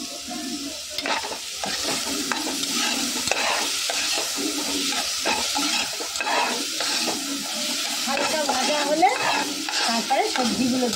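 Fried rice with chopped garlic and onion sizzles and fries in a pan, with steady crackling under repeated scraping stir strokes and occasional clinks of a utensil against the pan.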